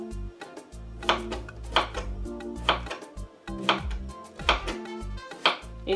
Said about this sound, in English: this is the way you're going to cut the zucchini